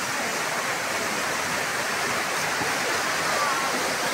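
Cold stream water rushing steadily on a hiking trail, a dense, continuous broadband wash that stays close and even throughout, with no clear voices over it.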